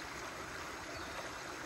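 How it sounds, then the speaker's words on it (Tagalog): A river runs past a quiet rural spot in autumn, its water flowing in a steady, broad rush without pause and no voices over it. "Yan yung ilog."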